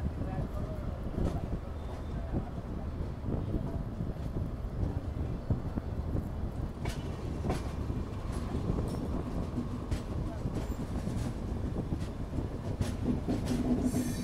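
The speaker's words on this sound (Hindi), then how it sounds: "तो सही थी ट्रेन, 1:30 की रफ्तार में चल रही है" A Delhi–Ajmer Shatabdi express races along at about 130 km/h, a steady broadband rumble of wheels on rail with faint clatter, heard from inside the coach while a voice speaks over it now and then.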